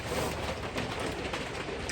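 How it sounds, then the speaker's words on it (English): Rain pounds steadily on the metal roof of a shed being converted into a tiny home, a dense, even hiss-and-patter roar close by with no talking. "it's raining and it's hitting the metal roof."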